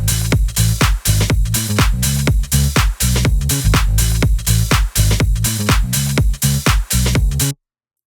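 Square wave synth bass in a full pop production modeled on a hit song, pulsing loud and steady under a driving four-on-the-floor beat with no talking.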